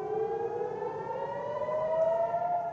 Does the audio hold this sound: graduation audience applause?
no